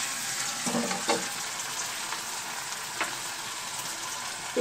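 Onion fritters (peyaju) and browned onions fry in a pan with a constant close sizzle, broken by a few soft scraping strokes of stirring; no one speaks.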